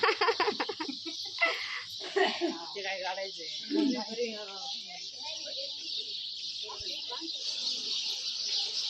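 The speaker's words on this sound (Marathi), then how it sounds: "तर पाखरांचा कसा चिवचिवाट चालू तुम्ही बघू शकता" Birds chirp steadily in the morning background at Lenyadri while voices talk nearby, especially early on.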